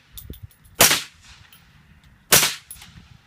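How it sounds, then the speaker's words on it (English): Two sharp cracks from a Keltec CMR 30 .22 WMR rifle, about a second and a half apart, each with a brief ringing ricochet tail outdoors. Faint rustling and clatter sit between the shots. "Ricochet."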